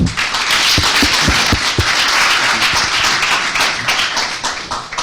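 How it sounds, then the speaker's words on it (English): A crowd applauds Chris Zook at a Room for Discussion interview event, a loud, sustained burst of clapping with a few sharp individual claps standing out near the start, no talking. "I would like to all of you to give a big hand of applause for Chris Zook"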